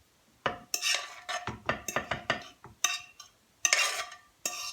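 Beaten egg being mixed into leftover food in a bowl, a busy run of spoon scrapes and clinks against the dish, close and fairly loud, with no voices.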